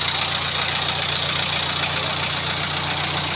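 An Isuzu engine, a 4x2 Isuzu Super 40 setup in a Wrangler-type jeep, idles with a steady, even low rumble and faint knocking, heard close and unchanging throughout.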